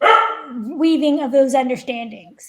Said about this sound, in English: sorry for the dog in the back